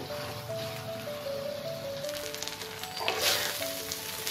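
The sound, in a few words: rice being stirred and fried in oil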